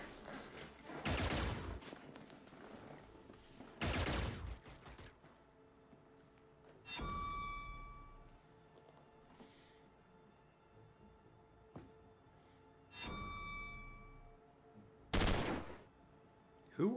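Gunfire in a tactical squad video game: several separate loud bursts of shots spread over the stretch, with quieter rumbling background between them and no talk.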